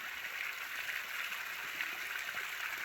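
Water gushing out of a 125-year-old gold mine, a steady close rushing hiss with no breaks, running without pause from start to finish.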